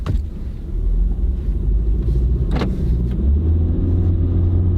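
A new Honda car with a CVT transmission pulls away, a low, close engine rumble that rises smoothly and holds steady as it accelerates, with a brief sharp click partway through and no talking.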